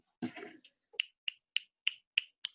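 Finger snaps from an audience at an online gathering crack out in a steady run of about six sharp, evenly spaced clicks after a brief burst of voice.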